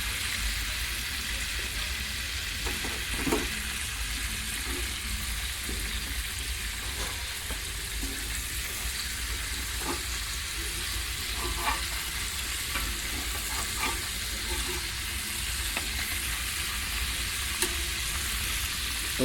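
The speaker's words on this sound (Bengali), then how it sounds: "বাকি সবজিগুলো এবারে ভাজা হবে ফুলকপির পরে" Cauliflower and other vegetables frying in hot oil in a home kitchen, a steady close sizzle with occasional stirring clinks, no voices.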